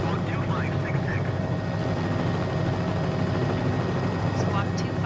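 A helicopter flying over Key West, Florida, heard from inside the cabin as a loud, steady rotor and engine roar that fills the whole stretch, with radio voices talking over it.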